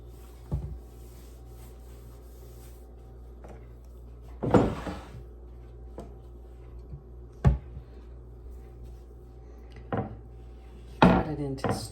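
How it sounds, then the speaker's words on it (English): Three stacked slices of Swiss cheese are cut into strips on a board in a quiet home kitchen, with five or six separate knife thumps spaced several seconds apart. "Cut it into strips."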